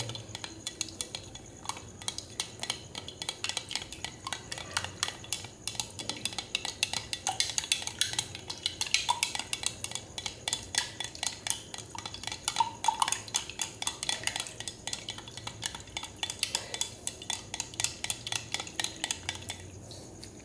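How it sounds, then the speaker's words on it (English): Hot concentrated sodium hydroxide solution is stirred by hand, producing a steady run of rapid clinks and scrapes against the container, fairly quiet and close, with no talking. "I'm bored of stirring and I should really buy a stir bar and a magnetic stir bar hot plate"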